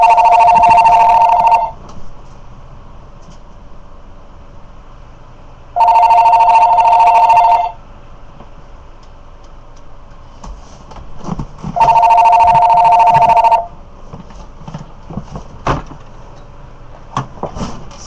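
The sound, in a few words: telephone ringing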